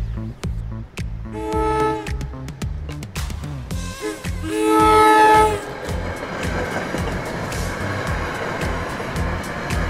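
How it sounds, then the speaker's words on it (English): The Dinky commuter train rumbles past crossing Faculty Road at Princeton with rhythmic clickety-clack of wheels, and its horn blasts twice, loud and nearby, over steady rolling noise. "a westbound train crosses Faculty Road."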